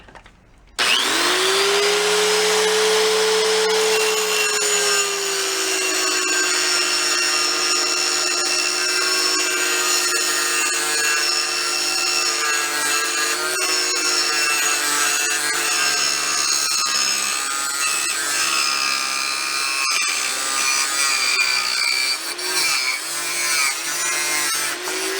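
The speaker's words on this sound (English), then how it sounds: "And I just use this cutoff wheel." An abrasive cutoff wheel grinds steadily through a metal snare drum throwoff adapter plate, a loud, continuous high-pitched whine with shrill overtones that holds for most of the stretch and wavers slightly near the end.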